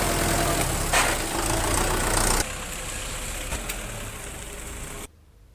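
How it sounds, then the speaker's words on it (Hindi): Engines of tractors and trucks idle and rumble steadily at an illegal sand mining site, loud and broadband, with a sudden drop in level partway through before cutting to near silence at the end. "ट्रैक्टर और ट्रक से बालू का उठाव किया जा रहा था।"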